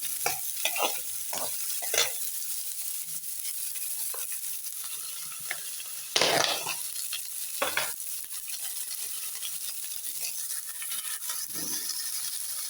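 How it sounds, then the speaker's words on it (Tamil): Onion, green chili and curry leaves sautéing in a pan, with a steady oil crackle under repeated scraping stir strokes from a spatula and a louder burst of sizzle midway, close and with no talking. "வதக்கி விடுவோம் வெங்காயம் பச்சை மிளகா அது கூட கருவேப்பிலை கொஞ்சம் நம்ம சேர்த்துக்கலாம்"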